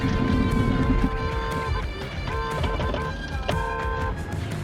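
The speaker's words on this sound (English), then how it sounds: "honked a few extra times for good measure before continuing" A Hyundai Elantra's horn sounds in several honks during a near-collision on the road, tonal blasts layered over steady traffic and engine noise from inside the car.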